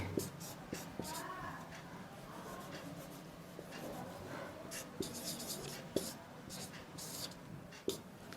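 Pen or pencil writing by hand on paper during a Hindi language lesson, steady scratching strokes with a few sharper taps, fairly quiet and close, continuing throughout.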